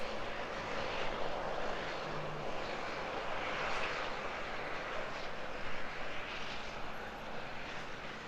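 A small Kiwi Air propeller plane arrives at Auckland Airport, its engine a steady, broad droning roar that holds fairly loud and constant from start to finish with no talking over it.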